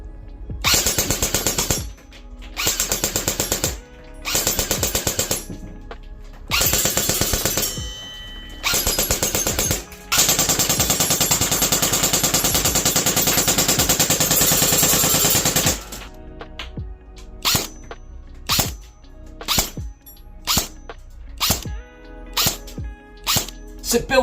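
An APS Silver Edge 2.0 airsoft gun fires several loud rapid bursts of shots, then a long continuous stream, followed by a series of single sharp shots spaced about a second apart.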